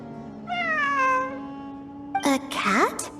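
A cat meows in the Genshin Impact video game, one long wavering meow followed by a shorter rising pair of mewing calls, clear and close.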